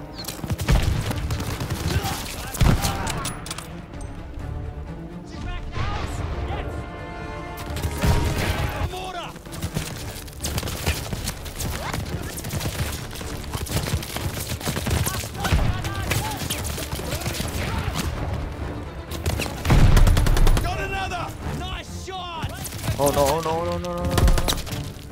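Gunfire rattles through a Call of Duty Vanguard match in dense bursts and single cracks, with loud automatic volleys nearly continuous and talk over the top.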